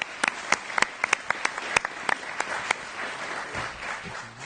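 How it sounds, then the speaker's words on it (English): Sparse scattered clapping from a small audience at a college quiz-game quarterfinal, individual crisp claps at an irregular rhythm that thin out toward the end, fairly faint. "let's give them a round of applause."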